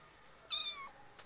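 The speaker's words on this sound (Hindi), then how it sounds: "यहाँ पे बिल्ली भी है," A cat in the Minecraft video game gives a single short meow, clear against quiet game background.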